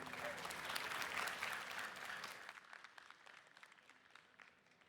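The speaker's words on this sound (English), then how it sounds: "please give a big round of applause" A conference audience at a game developer talk on Total War: Three Kingdoms claps in a sustained round of applause, dense and steady at first, then thinning and fading over a few seconds.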